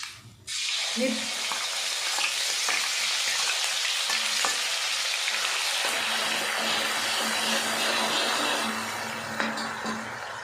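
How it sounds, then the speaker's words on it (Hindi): Crushed ginger and garlic hit hot ghee with a sudden loud sizzle, then keep frying in a steady, close hiss with faint stirring clinks underneath and no speech. "घी हमारा गर्म हो गया, अब इसमें डालेंगे ये अदरक और लहसुन।"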